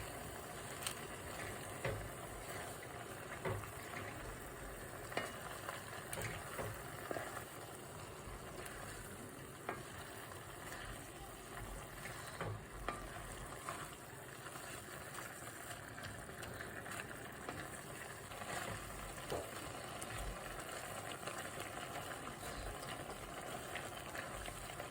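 Mustard greens cooking in a pan, a steady faint sizzle and bubbling hiss running continuously without talk.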